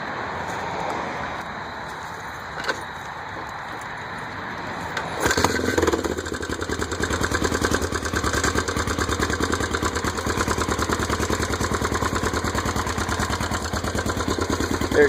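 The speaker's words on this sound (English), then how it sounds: "I'm gonna have start it up for you. This is a cold start." A Yamaha XT500 single-cylinder motorcycle is cold-started and settles into a steady, close idle. After a few seconds of quiet handling noise, the engine fires and keeps a loud, even thumping rhythm to the end.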